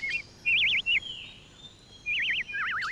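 Small cartoon birds chirp in quick warbling trills, two bursts early and two more near the end, loud and close with quiet gaps between and no voices.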